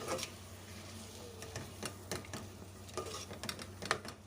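Mixed vegetables being stirred in a pan with a spoon: quiet, irregular clinks and scrapes of utensil against metal, close up and faint, with no talking.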